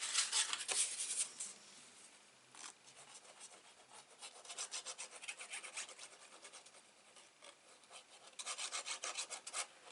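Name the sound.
burnishing paper down on a mini album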